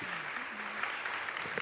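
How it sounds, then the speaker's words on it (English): Conference audience applauding a data science panel at a women in analytics event, a dense, even round of clapping throughout with a faint voice briefly underneath. "Let's give our panel a round of applause for bringing their best selves"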